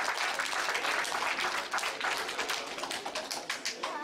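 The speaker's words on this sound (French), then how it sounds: "On applaudit bien fort" An audience at a marbles championship final in France claps steadily and fairly briskly, a continuous patter of many hands lasting about four seconds with no talk over it.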